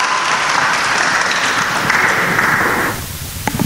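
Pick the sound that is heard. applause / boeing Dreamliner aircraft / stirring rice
applause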